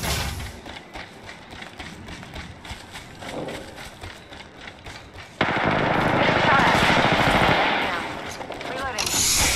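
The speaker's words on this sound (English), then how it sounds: "The enemies are shooting at me." Enemy gunfire in Apex Legends arena play: bursts of rapid shots grow louder and denser in the second half, with game effects layered over a continuous busy battle mix.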